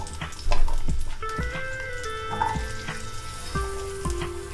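About ten garlic cloves and ten shallots frying in oil in a pan for an okra thuvaiyal: a steady, close sizzle with faint tonal sounds running under it.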